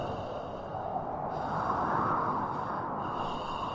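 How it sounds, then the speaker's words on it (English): Heavy, noisy breathing plays as a sound effect in an audio drama, a steady, close, rasping rush of air that swells and falls over a few seconds. "Now he can hear heavy breathing just behind his back."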